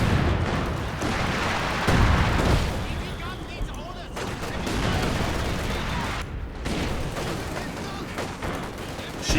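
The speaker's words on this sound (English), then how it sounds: "Machine gun." Gunfire from a Company of Heroes 2 match, a large 4v4 tournament battle, with dense overlapping bursts and blasts running continuously at close range while a commentator talks over the action.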